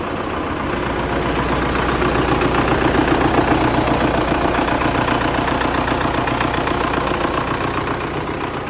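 A 2010 MTZ tractor's diesel engine drones steadily as it drives slowly, a loud continuous rumble with a knocking texture that swells gently in the middle.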